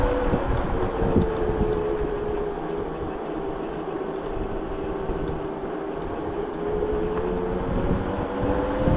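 Biktrix Juggernaut Classic Duo ST mid-drive e-bike motor running on throttle, a steady mid-pitched whine with a gently shifting tone held over continuous road and wind rumble, no talking.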